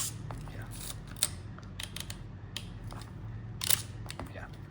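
Mode dial being turned on a Nikon FA film camera, a few small crisp mechanical clicks and ticks scattered over a quiet room background.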